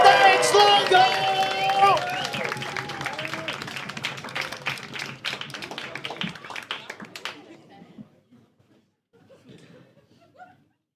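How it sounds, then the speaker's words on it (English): A comedy club crowd claps and cheers in a dense, steady wash of applause under an announcer's voice, then fades out, leaving near silence for the last few seconds. "Start clapping your hands. Start cheering."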